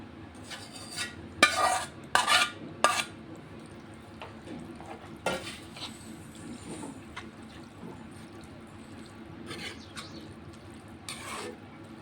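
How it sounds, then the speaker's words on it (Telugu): Cooked pasta tipped into a pan of simmering masala and stirred, giving a few sharp metallic spoon-and-pan clatters early on, then softer scraping and a low bubbling hiss, close by. "ఇప్పుడు ఇందులో నేను ఉడికించుకున్న పాస్తా వేసుకుంటాను."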